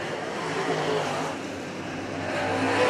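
Race cars roar around a quarter-mile dirt oval at Lake City, Michigan, during a modified feature, a continuous distant engine drone with crowd-like wash, heard under a commentator's voice.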